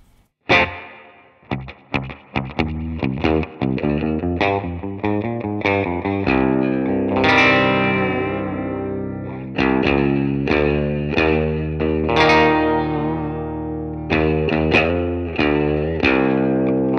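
An electric guitar played through a ToneX with a Spring 4 reverb plays picked notes and sustained chords drenched in a splashy, lingering spring reverb, with no talking.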